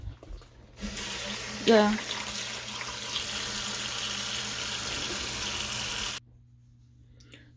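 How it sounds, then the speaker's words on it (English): Tap water runs steadily into a bowl as sweet potatoes are washed for boiling in a rice cooker, a continuous close splashing rush lasting about five seconds before stopping abruptly, with a brief word spoken over it. "Then I'm going to be putting it right here to wash it."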